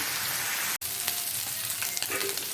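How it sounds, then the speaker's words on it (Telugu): Steady sizzling of ingredients shallow frying in oil for a chicken curry gravy, fairly loud and continuous with a brief cut near the start and light stirring clicks. "ఇట్లా వీటిని అన్నిటినీ షాలో ఫ్రై చేసుకోవాలా"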